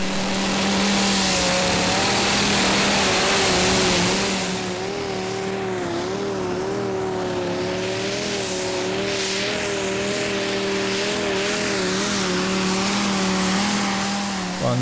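Danish pulling tractor in a tractor pulling championship round at Herning, its engine roaring loud and close and holding a heavy, steady drone with slight wavering pitch along the track.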